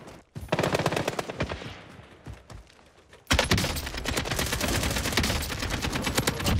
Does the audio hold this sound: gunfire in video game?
yes